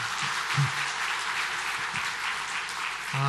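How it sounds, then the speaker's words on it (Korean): Church congregation applauding the choir dressed in hanbok for a holiday service, continuous dense clapping across the room, fairly loud and even, with faint voices underneath. "박수 한번 해주시기 바랍니다."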